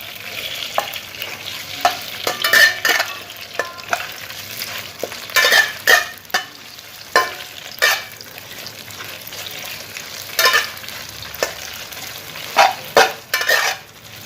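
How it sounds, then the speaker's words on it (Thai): Garlic and beef fry in a hot pan for a Thai soy-sauce stir-fry with spaghetti noodles, a steady close sizzle broken by repeated scraping stirs of the spatula. "ก็เจียวกระเทียมมันจนเริ่มหอมก็จะตามด้วยเนื้อนะครับ"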